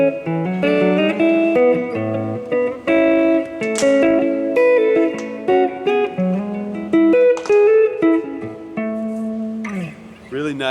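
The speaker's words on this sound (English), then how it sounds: "Really nice open hall reverb, but it's not too wet" Electric guitar through a Source Audio Collider pedal on its hall reverb setting, played as chords and melodic lines with an open, spacious but not overly wet tail, loud and close with no talking.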